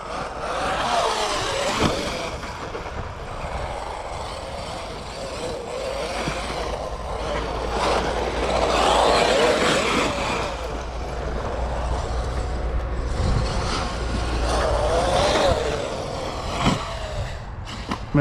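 A car engine runs steadily with a low rumble and a broad mechanical roar, the pitch shifting slightly as it revs, heard from inside the vehicle without any talk.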